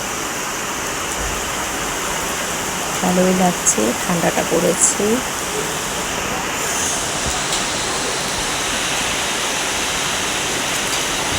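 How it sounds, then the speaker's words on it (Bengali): Heavy sudden rain falling in Sikkim in the evening, a dense steady wash of rain noise throughout, with a person speaking briefly in the middle over it. "এই যে সিকিমে হঠাৎ করে ভীষণ বৃষ্টি শুরু হয়ে গেছে,"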